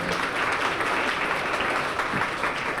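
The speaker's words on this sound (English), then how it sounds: "give yourself a round of applause" Audience applause at a community roundtable event, dense and steady clapping from a room full of people, continuous and fairly loud with no voices.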